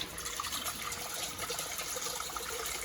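Water pours steadily from a pipe into a collecting bucket in a flow-through-pipe lab setup, a continuous broadband splashing and trickling rush, close and even throughout with no talk.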